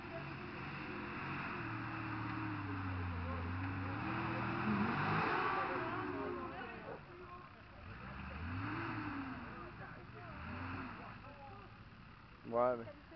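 A Nissan Patrol 4x4 engine revs and strains while climbing on a northern off-road course, rising and falling in pitch at moderate distance, with people talking over it throughout.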